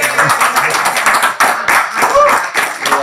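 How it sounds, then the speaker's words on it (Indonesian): Audience clapping at an Indonesian religious talk, a burst of many hands under a voice that keeps speaking over it. "Tepuk tangan dong"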